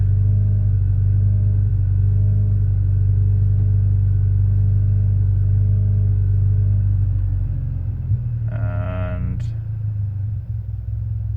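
A Mitsubishi Lancer Evolution X with the SST dual-clutch gearbox idles as a steady low rumble while the transmission runs its shift teach-in, with a brief mechanical clatter and whir near the end.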